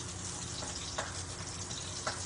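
Lemongrass sautéing in a little cooking oil, giving a continuous close hiss of frying with a couple of faint stirring knocks.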